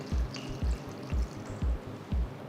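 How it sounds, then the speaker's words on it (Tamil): Water poured into a pressure cooker holding soaked chickpeas, heard as a close run of short gurgling splashes that pulse in a steady rhythm, with no talking. "தேவையான அளவு தண்ணியை ஊற்றி"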